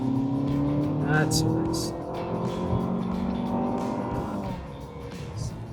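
A Honda CR-V RS e:HEV hybrid with twin-cam engine revs hard at full throttle, a steady droning harmonic tone rising slightly in pitch, heard from inside the cabin under a man's brief spoken remark.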